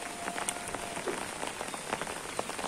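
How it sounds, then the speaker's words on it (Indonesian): Heavy rain falls steadily onto surfaces near a village house, making a dense, close patter with scattered louder drips and splashes throughout. No one speaks. "hujannya semakin deras guys"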